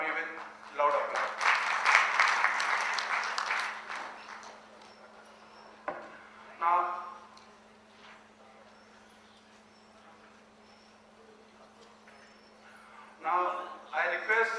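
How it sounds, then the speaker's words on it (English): An audience at a session claps for paper writer Ms. Rupa Gami, a few seconds of fairly loud clapping at the start before the hall settles into quiet with brief bits of talk and a steady low hum. "I request all of you to welcome today's paper writer, Ms. Rupa Gami, with loud applause."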